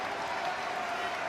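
A rugby crowd at a Leicester Tigers match roars and applauds as the team comes onto the pitch, a dense, continuous wash of distant cheering.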